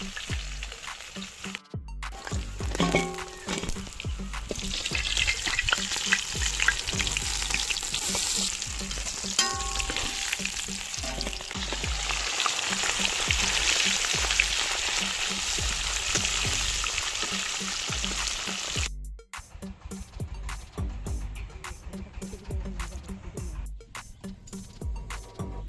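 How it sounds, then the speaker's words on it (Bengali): A masala for katla fish kalia sizzles and spatters loudly in hot oil in a kadai for a long stretch while being stirred, then drops abruptly to a quieter bubbling. "মশলাটা পাক হওয়ার জন্য একটু পানি দিয়ে দিচ্ছি, ভালো করে ফুটিয়ে নেওয়ার জন্য।"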